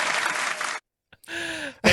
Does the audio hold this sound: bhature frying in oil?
no